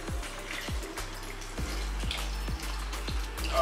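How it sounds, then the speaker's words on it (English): Water is poured into a shaker holding two scoops of whey protein powder, giving a steady close splashing and gurgling stream with short rhythmic glugs throughout. "I'm going to put in some water here."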